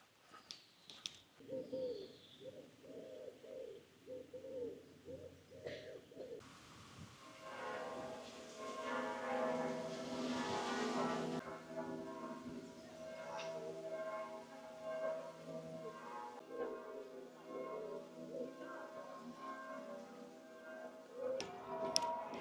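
Church bells ring out across a Devon village in the Blackdown Hills, a sustained layered peal of overlapping tones heard from a moderate distance outdoors, preceded by a few seconds of quieter rhythmic sounds.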